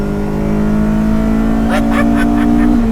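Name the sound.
carbureted mid-engine sports car accelerating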